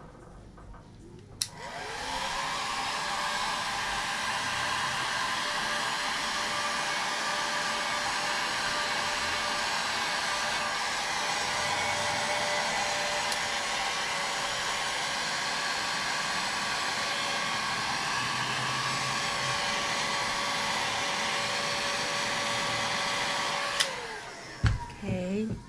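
A heat gun blows on an epoxy-coated glitter tumbler, giving a loud, steady airy roar that switches on abruptly, holds unbroken for over twenty seconds, then cuts off.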